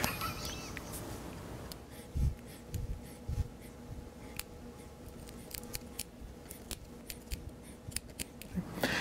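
Wire stripping during installation of LED fog lights on a Can-Am Spyder F3 Limited: faint, close snipping and scraping of wire insulation with small sharp clicks scattered through a quiet stretch.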